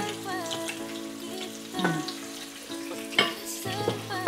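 Garlic and onion sizzling in a frying pan, a close, continuous hiss and crackle with a few louder bursts as they are stirred.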